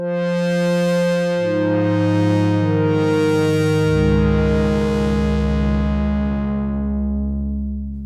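Prophet Rev2 synth patch built from two triangle oscillators tuned an octave and a fifth apart, sustained chords shifting and sliding lower over eight seconds, with a slow swelling shimmer and no other sounds.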